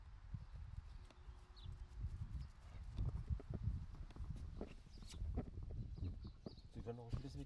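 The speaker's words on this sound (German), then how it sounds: "Pferd." A horse walks with hooves clip-clopping in a repeated, uneven rhythm at moderate distance, mixed with low rumbling background noise and some talking nearby.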